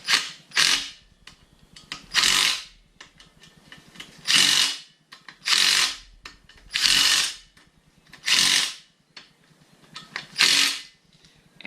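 Ratchet tightening bolts crosswise on a Mazda RX-8 rotary engine during a rebuild, heard as about seven separate bursts of rapid clicking, each roughly a second long with short quiet gaps between, close and fairly loud.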